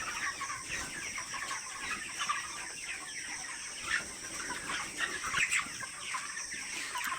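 A flock of poultry chickens, one of them suffering from heat stroke, clucks and chatters continuously at moderate distance, many overlapping calls forming a steady murmur with a few sharper squawks and no talking.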